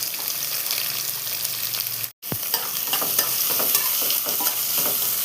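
Chopped onions and green chilies fry and sizzle in a pan for a fish puttu recipe, with stirring noises, a brief cutoff, then steady crackling resuming.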